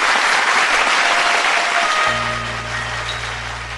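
Studio audience on a televised singing competition bursts into loud, dense applause that tapers as a sustained musical intro rises underneath.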